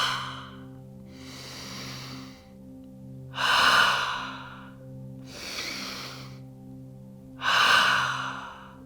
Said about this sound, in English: Breathe out with your mouth open.